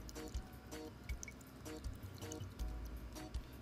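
Pool water test kit vials being shaken during a pool cleaning, faint liquid sloshing and small dripping splashes in a few irregular bursts, close and quiet with no talking.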